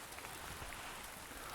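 Heavy rain falls steadily through autumn woodland at Holme Fen, a dense, even hiss of drops close around, with no other sounds breaking through.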